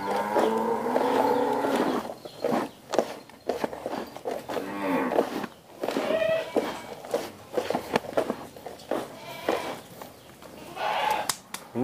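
Cattle in a fattening pen give several long, low moos one after another, fairly close, with shuffling hooves and pen noise between the calls.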